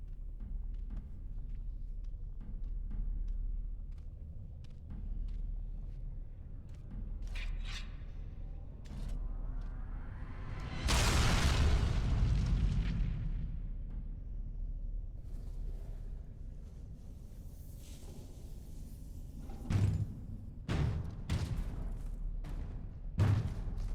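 An anvil being destroyed in the video game Dragon Age: Origins: low mechanical creaks and thuds build to a loud rumbling crash that swells and fades midway, followed by a few heavy knocks.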